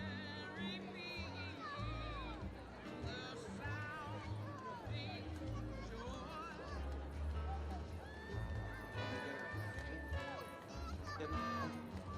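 Morgan horses at an evening carriage parade neigh and whinny repeatedly while hooves clip-clop on pavement, heard among crowd chatter and a voice talking over a loudspeaker.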